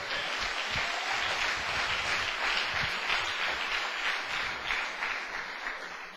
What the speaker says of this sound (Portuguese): Pode dar uma salva de palmas para o Senhor